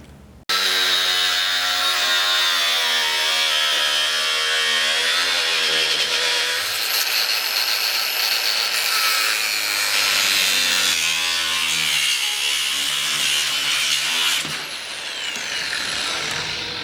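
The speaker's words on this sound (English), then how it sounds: "I'm going to cut that straight across and then mount it to my vehicle" A saw cuts straight across a vehicle's lower grille in one long, steady, loud stretch of grinding and rasping with a shifting pitch. It eases off briefly near the end, and no one speaks.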